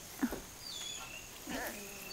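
A dog whimpers in a few short, high cries, fairly close, with faint background noise and brief soft voices.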